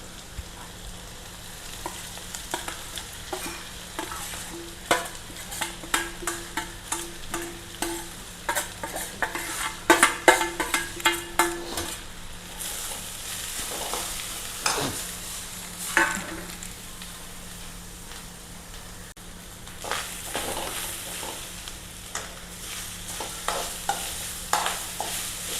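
Grated coconut and curry leaves stir-fried in a thin pan, with loud repeated scraping and clattering of a spoon against the pan over a constant sizzle, spread across the whole stretch.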